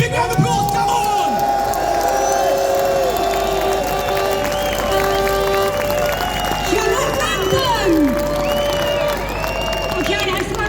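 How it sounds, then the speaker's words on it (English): A large rally audience applauds and cheers continuously, dense clapping under loud whoops and shouting voices, sustained and close throughout. "Give a big round of applause, come on!"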